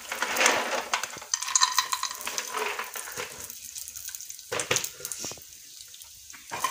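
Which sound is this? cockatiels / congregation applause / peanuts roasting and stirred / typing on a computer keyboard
peanuts roasting and stirred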